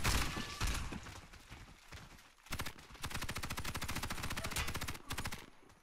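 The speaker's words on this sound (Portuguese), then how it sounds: "Errei os tiros nos caras rushando" Rapid automatic gunfire from the shooter game Warface, bursts of sharp shots with short gaps, loud and close, the longest burst running for several seconds without speech.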